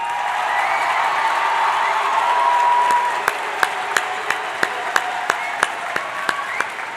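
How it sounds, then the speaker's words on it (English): Audience applause at a high school commencement ceremony: a full, cheering crowd claps densely for a few seconds, then the sound drops away to a handful of sharp, evenly spaced single claps ringing out in a large hall. "We have to acknowledge and give a warm round of applause for Mr. Pete Capone."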